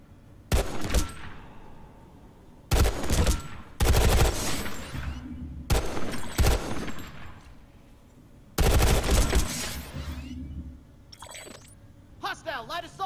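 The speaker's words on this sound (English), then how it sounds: "Try shooting some targets using hip fire." Hip-fire bursts from a rifle in Planetside 2 ring out close and loud in several separate volleys of rapid shots, with short gaps between them and faint game chatter and effects near the end.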